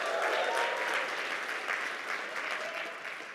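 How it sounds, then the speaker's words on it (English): An audience at a military logistics conference keynote breaks into a round of applause, with loud, dense clapping from many hands that stays steady and fades slightly toward the end. "Round of applause."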